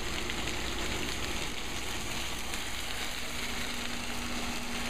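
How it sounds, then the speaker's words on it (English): Tofu and fish cake pan-fry in plenty of canola oil in a big skillet, giving a loud, dense, unbroken sizzle like heavy rain, with no voices. "there has to be a lot of oil to sort of pan fry the tofu and the fish cake"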